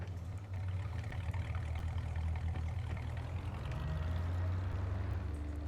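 A pickup truck engine in the video game Farming Simulator 22 idles with a steady, low rumble throughout, close and unbroken, with no voices.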